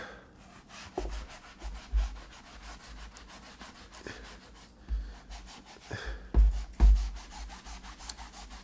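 A Magic Eraser scrubs the cushioned sole of a white shoe with soft, irregular rubbing strokes, close by, with a few louder scuffs near the end and no talking.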